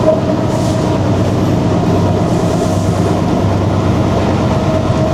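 The Rupashi Bangla Express from Dhaka to Benapole rolls along the rails with a loud, constant rumble and faint rhythmic clatter, heard from inside the carriage with no voices.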